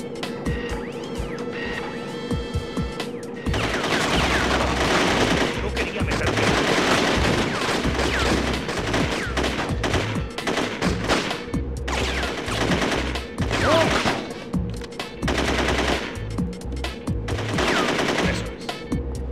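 Rapid automatic gunfire from a police shootout in the video game The Getaway: Black Monday, sustained bursts of loud shots with crashes, continuous throughout.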